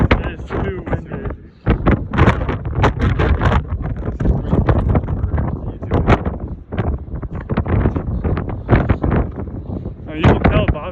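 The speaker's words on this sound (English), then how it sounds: "It's too windy." Strong gusty wind in Edinburgh, Scotland buffets the microphone in loud, continuous rumbling bursts, nearly drowning out a person talking underneath.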